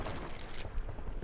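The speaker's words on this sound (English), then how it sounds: "Swapping mags." Magazine swap during a reload in Black Ops 7, a brief run of mechanical clicks and clacks from the weapon, fairly close and moderately loud against a busy game background.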